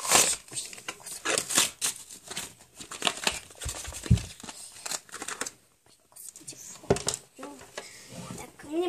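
A plastic package holding a toy pony is opened, with bursts of close crinkling and rustling, interrupted by brief pauses, and someone speaking softly in Russian between the handling noises.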